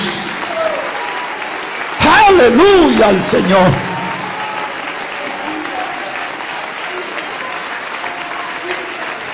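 A church congregation bursts into loud applause and cheering during a Spanish-language worship service, lasting about two seconds before fading back under a preacher's voice and murmuring crowd.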